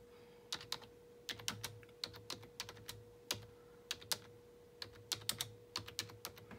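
Fingers typing on a computer keyboard, a quiet, irregular run of crisp keystroke clicks in short bursts over a steady low electrical hum, no voices.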